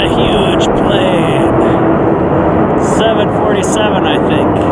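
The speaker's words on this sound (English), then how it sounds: "Wow, that's a huge plane." A Boeing 747 airliner flies overhead above a beach, a loud, continuous broad roar that fills the whole stretch, with people talking underneath it.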